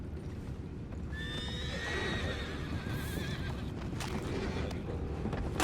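Horses neigh and whinny in high, wavering calls over steady hoof clip-clops, with a constant background rumble, in the video game Red Dead Redemption 2.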